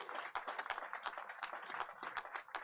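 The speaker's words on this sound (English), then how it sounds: "Give them a big round of applause as well." Faint, fairly distant crowd applause for the District Department of Transportation team at an outdoor announcement in Anacostia, a steady patter of many hands with no voices.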